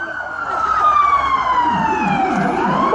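An ambulance siren wails loud and steady in a sliding pitch sweep, then shifts into a rapid yelp pattern, close by at an outdoor rally with traffic rumble beneath.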